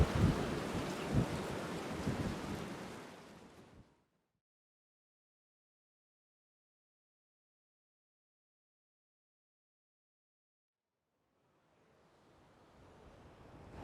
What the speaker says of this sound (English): it was fucking windy as fuck when I was like out exposed by the ocean